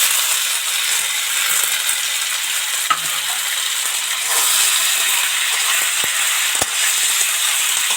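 Snake gourd and tomato fry with garlic, onion and dried chilli in a pan, a steady loud sizzle running throughout with occasional soft stirring clicks and a couple of sharp utensil taps.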